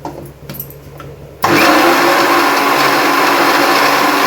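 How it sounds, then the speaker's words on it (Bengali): A kitchen mixer grinder blends pointed gourd with garlic and a splash of water into a paste, starting abruptly after a quiet moment and then whirring loud and steady, with no talk. "দিয়ে দিলাম এখন মিক্সিতে, এখন একটু ঘুরিয়ে নিলাম"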